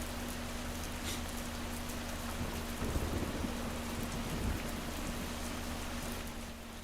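Rain in the video game Schedule I, a soft steady patter under a constant low engine-like hum, with no talking.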